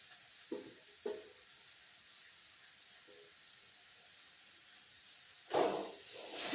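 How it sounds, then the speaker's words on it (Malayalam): Dried coconut pieces and curry leaves go into a hot pan for a Kerala-style kadala curry, giving a few brief, faint sizzling bursts and then a louder hiss near the end over a quiet background. "ഇതിലേക്ക് നമുക്ക് ഉണക്ക തേങ്ങ അരിഞ്ഞു വെച്ചേക്കുന്നത് ഇട്ട് കൊടുക്കാം."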